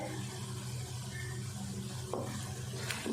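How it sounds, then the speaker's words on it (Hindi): Spice masala and green chillies frying in a pan for masala bhindi (okra), a steady close sizzle with brief scraping stir sounds near the end. "मसाले को अच्छे से फ्राई कर लेते हैं। अब इसमें डाल देंगे हरी मिर्चें।"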